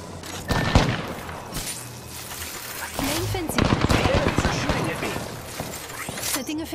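Automatic and burst gunfire in an Apex Legends ranked match, loud and dense throughout with sharp cracks and shattering hits, mixed with game voice lines and other speech.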